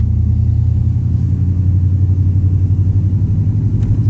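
A Chevy Silverado OBS truck engine running after starting, cold and not yet warmed up, idling loud and close with a steady low rumble and faint rhythmic pulsing.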